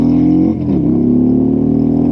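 A Harley-Davidson Road Glide Limited touring motorcycle pulls hard under throttle, its deep, loud engine drone steady and close with a brief dip mid-pull, no voices over it.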